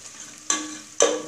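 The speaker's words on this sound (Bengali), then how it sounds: "দারচিনি এলাচি দিয়ে কিছুক্ষণ ভেজে" Cardamom pods and cinnamon pieces with onion frying in hot oil make a steady sizzle, and two sharp bursts of stirring scrape through the pan up close.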